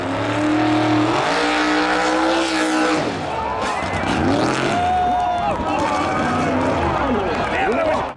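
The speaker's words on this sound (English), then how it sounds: "he enters into the famous Byron wheel stand competition, and I'm just going to let this play out for you to watch." A race car launches at the Byron wheel stand competition in 2019, its engine roaring loud and continuous with sweeping revs and pitch shifts throughout, close and dominant with crowd or commentary noise mixed beneath.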